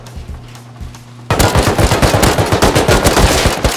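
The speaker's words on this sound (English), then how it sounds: "Wait, I think the auto turret killed him." Rapid automatic gunfire from an auto turret in a video game, bursting in loud and close after a quieter stretch, then hammering on in a fast, steady stream of shots.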